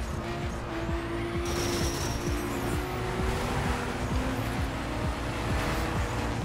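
Game car with a manual gearbox cornering in The Crew, engine drone steady and close with brief tire squeal and tonal whines, continuous with no talk.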